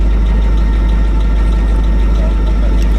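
Engine of an Alvis Saladin armoured vehicle, freshly out of the workshop and running smoothly, holds a steady, loud low-pitched idle throughout, with people talking over it.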